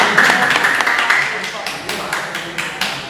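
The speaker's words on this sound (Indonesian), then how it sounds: "Ya, tepuk tangan dulu dong." A classroom group claps for a teacher's performance assessment, brief scattered hand clapping that fades out over about three seconds, with a voice talking over it.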